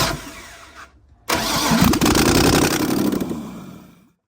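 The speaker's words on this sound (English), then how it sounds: "it fired up and it didn't backfire or anything" A budget LS-swapped BMW E36 cranks briefly, then fires and catches with a loud, rough roar that holds steady for a few seconds before cutting off, with no backfire and no talking.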